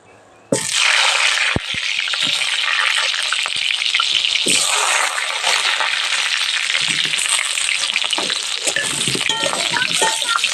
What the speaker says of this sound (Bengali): আলুগুলোকেও লালচে করে ভেজে নেবো